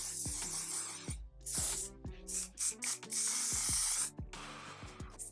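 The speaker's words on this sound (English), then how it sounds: "I'm going to use One Size Until Dawn Mattifying Waterproof Setting Spray" Several quick hissing bursts of a makeup setting spray bottle, each preceded by a clicking pump, close to the microphone with short pauses between.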